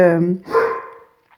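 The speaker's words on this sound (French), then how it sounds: "ah voilà le cri des chiens" Dogs barking in the background of a French-language podcast recording: a short, loud burst follows a voice, then fades away to near silence.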